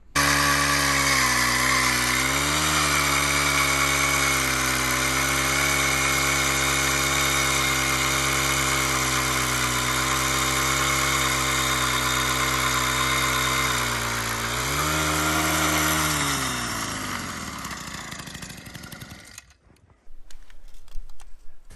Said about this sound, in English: we're gonna drill a hole and check just to be sure